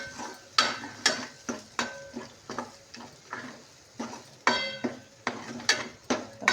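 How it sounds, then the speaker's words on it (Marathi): Vegetable with turmeric being stirred in a pan, a quiet run of rhythmic scraping and clinking strokes about twice a second over a faint sizzle, with no talk. "मस्त की हलवून घ्यायचं आहे."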